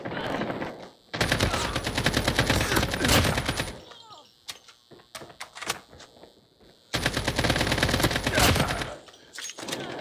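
AK-47 fire in a mobile shooter in the style of Call of Duty Mobile: two long loud automatic bursts separated by a quieter stretch of scattered single shots and game noise.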